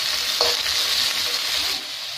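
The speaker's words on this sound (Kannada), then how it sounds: "ಆನಿಯನ್ ಮತ್ತು ಕ್ಯಾಪ್ಸಿಕಮ್ ಅನ್ನು ಹಾಕೊಳ್ತಿದ್ದೀನಿ." Onion and capsicum sizzle and fry in a pan while being stirred, a steady bright hiss with a few scraping stirs, close and fairly loud, no voices.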